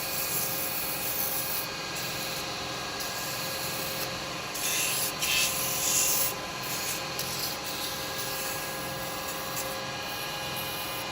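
Sandpaper rubs lightly over a turned wooden snowman on the lathe, a continuous soft scratchy hiss under the steady hum of the spinning spindle, with a few brief brighter swells.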